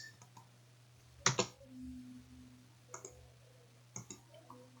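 Computer keyboard keys pressed during graphic design work, a few sharp isolated clicks with quiet gaps between them and a faint steady hum underneath.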